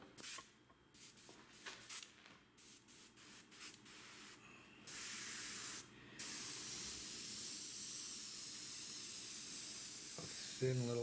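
Aerosol spray paint laying a thin white coat onto an RC Corsair warbird model, heard as short hissing bursts at first, then one long steady close spray hiss to the end.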